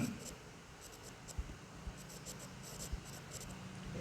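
Chalk or marker writing on a board during a maths lesson solving an equation: faint, soft scratching strokes with a few light taps, quiet and distant in a roomy space.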